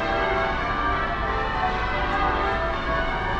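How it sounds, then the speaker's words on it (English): Church bells ring continuously in London, their overlapping tones blending into a steady wash of sound, moderately loud. "I don't know if you can hear the bells."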